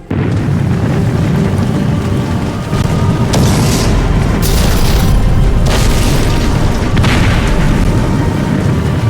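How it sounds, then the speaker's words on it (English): An explosion rocks the halls of Asgard in a Too Human game cutscene. Loud, sustained booming rumbles roll on for several seconds, with repeated blasts cresting over a continuous heavy roar. "When the explosion rocked the halls of Asgard."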